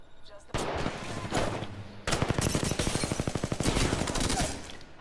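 Rapid automatic gunfire in a video game, a short burst followed by a longer sustained stream of evenly spaced shots, loud and dense, with a voice talking over it.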